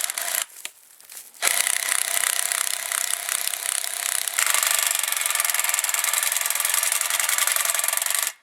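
A large lag screw grinds steadily into wood without a pilot hole, with a loud, continuous rasping whir, starting after a brief pause and running close up until it stops.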